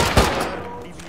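Gunfire in the survival game Rust: one loud, punchy shot, followed by a short, dense burst of rapid fire and a reverberating tail, all packed into about a second.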